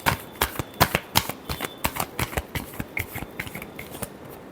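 Tarot cards being shuffled by hand, a rapid series of crisp papery riffles and taps, close and clear with no talking.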